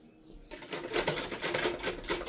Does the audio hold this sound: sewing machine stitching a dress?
yes